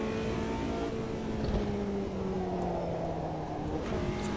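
Race car in the Automobilista 2 racing game holding a steady, loud engine drone with gently shifting pitch through a corner, continuous and unbroken, with no talking.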